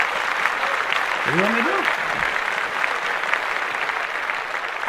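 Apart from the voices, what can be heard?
applause sound effect played on podcast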